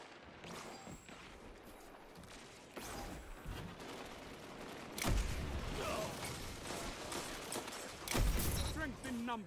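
Sniper rifle shots in the video game Destiny 2, several sharp bursts set against ongoing game sounds and talk, with stronger impacts near the middle and end.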